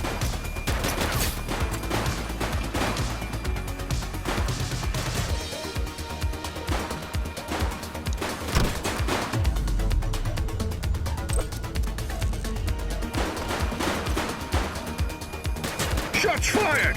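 Gunfire rattles through a police shootout in the video game The Precinct, dense bursts of rapid shots layered over music and effects, loud and continuous.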